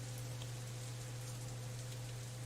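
Steady rain ambience from the visual novel Katawa Shoujo, a constant soft hiss of falling drops with a low steady hum underneath, even and unbroken throughout.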